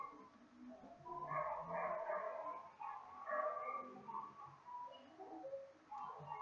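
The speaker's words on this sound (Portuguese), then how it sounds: "os cachorros começam a latir bem quando eu começo a gravar" Several dogs bark in short, irregular bursts, heard from a little distance and fairly faint, mixed with birdlike cooing in the background.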